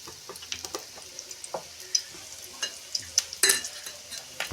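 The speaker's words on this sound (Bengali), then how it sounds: "গরম তেলে মা ভেজে নিচ্ছে" Stuffed chilies dipped in gram flour batter fry in hot oil as pakoras, with a continuous sizzle overlaid by frequent light taps and scrapes of a utensil.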